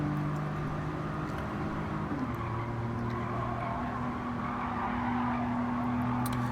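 Steady engine drone of a Toyota Alphard luxury van in Gran Turismo 7, lapping the Nürburgring, a constant mid-level hum whose pitch steps down briefly then holds, with no talking.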